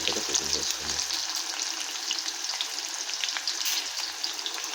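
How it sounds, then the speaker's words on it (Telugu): Green chillies crackle and sizzle in hot oil for upma, a dense, steady hiss packed with rapid pops. A few low knocks come at the start, then the frying runs on evenly with no talking. "మిరపకాయలు పచ్చిగా ఉంటాయి కదా, చిట్పట్ అంటూ ఉంటాయి."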